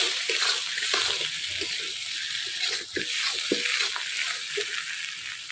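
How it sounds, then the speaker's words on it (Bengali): Water poured into a pan of frying potatoes for a village-style aloo dum, producing a loud, hissing sizzle with scattered clicks of stirring throughout, close and continuous. "হ্যাঁ এবার জল দিলাম"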